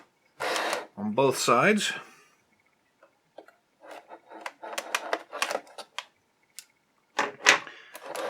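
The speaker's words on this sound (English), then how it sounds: "So we're going to go ahead and just cut that tape" Packing tape on an insert inside a GI Joe Defense of Cobra Island box set is cut, producing short, close scratchy slicing and crinkling bursts in a quiet room after a person briefly speaks.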